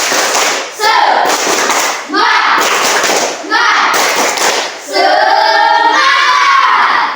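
A class of students stands in a classroom and performs a rhythmic spirit clap. Sharp bursts of hand claps alternate with loud, chanted voices, all close and energetic.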